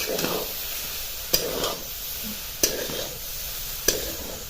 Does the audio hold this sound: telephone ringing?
no